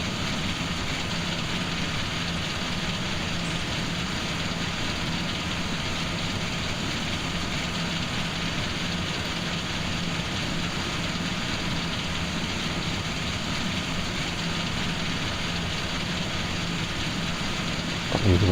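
A combine harvester's engine runs steadily in Farming Simulator 17, its cogs, wheels and belts driven off the motor, giving a constant dense drone and rumble with no talk over it.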